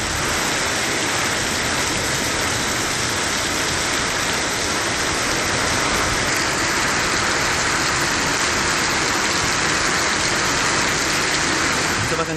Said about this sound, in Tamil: திருவண்ணாமலை மாவட்டம் செங்கம் சுற்றுவட்டார பகுதிகளில் கனமழை கொட்டி தீர்த்தது.